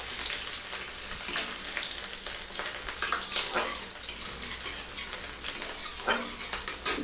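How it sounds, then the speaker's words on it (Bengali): Chopped ginger and chili fry in hot oil in a pan, giving a steady crackling sizzle broken by the scrape and clink of stirring, with no one talking. "এটা একটু ভালো করে নেড়ে চেড়ে নেব।"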